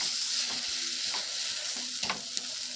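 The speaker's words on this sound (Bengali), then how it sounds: "1 চামচের মতন জিরে গুঁড়ো দিয়ে মশলাটাকে ভালো করে কষিয়ে নেব" Spice masala with ground cumin frying in a pan over low flame, a soft steady sizzle with a few stirring clicks and scrapes, no voices.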